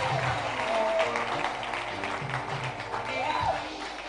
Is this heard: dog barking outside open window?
no